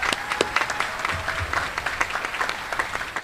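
Guests at a U.S. Army Contracting Corps change of command ceremony give a round of applause, with moderate, scattered clapping that stays steady for a few seconds.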